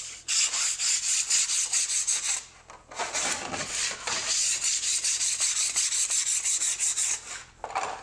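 A sharp putty knife scrapes chips off a Formica laminate surface in a series of close, loud rasping strokes with a few short pauses between passes.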